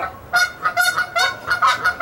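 Several geese or ducks on the water honk in a rapid series of loud, nasal calls, bursts coming one after another close by with no talking.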